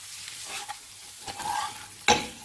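Stirring crushed garlic in a hot frying pan with soft sizzling, a few scraping strokes and a sharp clink of the utensil near the end.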